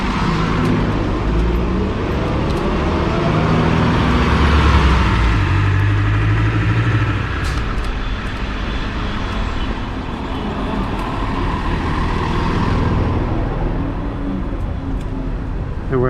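Street traffic on a busy shopping day between rainstorms, cars rolling past and idling at steady close range, forming a continuous engine and road drone with no talk.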